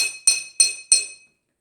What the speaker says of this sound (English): all we did was use a metal spoon, glass cups, and water